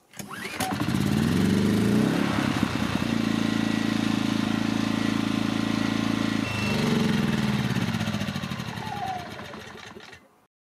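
An EcoFlow 1800W gasoline inverter generator is pull-started and runs loud and close, with a steady buzzing drone that shifts pitch midway, then settles before cutting off at the end.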